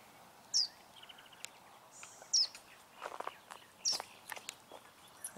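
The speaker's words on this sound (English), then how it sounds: "Hear the birds?" Small birds in an Arizona park give several short, bright chirps spaced a couple of seconds apart, close and clear over a quiet outdoor background with soft scattered ticks and rustles.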